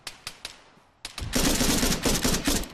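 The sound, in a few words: enemy gunfire shooting at the player in the video game Arma 3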